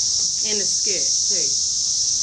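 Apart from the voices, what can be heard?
periodical cicadas buzzing in Nashville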